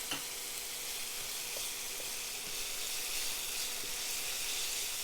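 Chicken stir-fries in a pan with oyster sauce, giving a steady, even sizzling hiss with only faint occasional clicks, heard close and continuous without talk.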